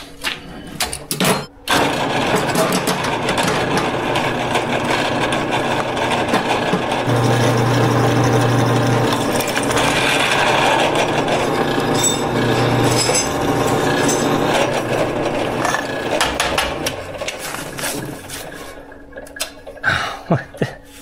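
A drill bit bores through a homemade chainsaw mount, a steady grinding whir that runs for most of the stretch, preceded and followed by sharp knocks and handling clatter close by.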